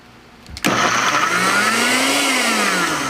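An electric blender starts abruptly, with a quick thump as it switches on, then whirs loudly and steadily while blending Haitian epis ingredients, its pitch shifting slightly as the load changes.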